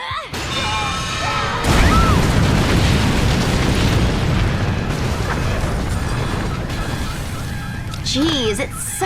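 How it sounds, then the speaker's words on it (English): A video game explosion in Lollipop Chainsaw RePOP, a loud, sustained roaring blast with crashing debris that rumbles for several seconds, then thinner game effects and a voice near the end. "it sucks when things explode"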